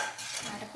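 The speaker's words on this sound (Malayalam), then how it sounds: "ഇതൊന്ന് ഇളക്കിയിട്ട് കൊടുക്കാം" Raw jackfruit avial being stirred in a pot, a soft continuous scraping and shuffling of thick vegetables against the metal, quiet and close, with no talk.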